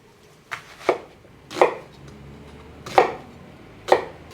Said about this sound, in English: I chop up the rest of the vegetables